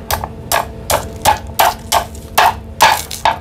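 Hammer pounding during food preparation with coconuts, a steady series of about ten sharp, loud, close blows at a regular rhythm, alone without talk.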